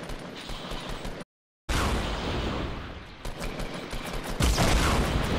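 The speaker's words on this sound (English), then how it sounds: "They're shooting in my direction." Rapid bursts of gunfire crackle in Fortnite, loud, dense and continuous apart from a brief total dropout, with a heavier burst of shots near the end.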